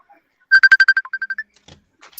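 A mobile phone ringtone plays a quick run of bright, closely spaced electronic notes, loud and close, followed by faint handling noises.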